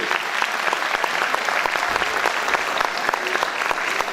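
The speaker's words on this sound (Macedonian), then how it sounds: "Еден огромен аплауз за TNT Системи." Sustained audience applause at an Easter folk concert, dense clapping from a large crowd filling the hall steadily and loudly throughout.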